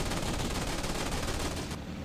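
Cockpit machine guns of an A6M2 Zero blaze in a loud, continuous rapid burst at a Wildcat during a Midway dogfight in IL-2 1946, cutting off abruptly near the end.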